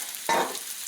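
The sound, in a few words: mushrooms sautéing in olive oil for pot roast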